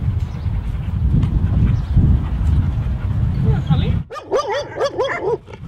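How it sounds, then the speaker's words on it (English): Working dogs in a rescue kennel bark and yip repeatedly at close range, with whines and yelps breaking through over rumbling kennel noise, starting in bursts and growing louder near the end. "In here you see the working dogs."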